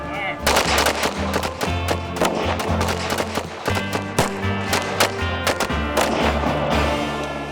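Loud rapid bursts of gunfire as leftover ammunition is shot off, dense repeated cracks and booms continuing without pause, with a voice faintly beneath.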